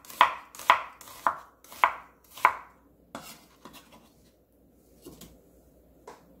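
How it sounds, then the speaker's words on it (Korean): A knife chops a small onion on a cutting board in five crisp, evenly spaced strokes, then a few fainter scattered taps with quiet gaps between them. "양파인데 양파 작은 거 한개 썰어주세요."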